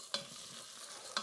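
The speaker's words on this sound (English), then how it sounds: "Cook them a little in the pan, just in the oil. They'll pop and sizzle at you." Ingredients for lentil soup or chili sizzle in oil in a pan, a soft continuous frying hiss with two sharp stirring clicks or pops, fairly quiet and with no talking.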